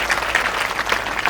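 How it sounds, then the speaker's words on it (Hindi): Students at a school career seminar clapping loudly to welcome a speaker, a brief burst of dense, energetic applause from a roomful of children, close and steady. "जोरदार तालियां"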